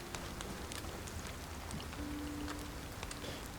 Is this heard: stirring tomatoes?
no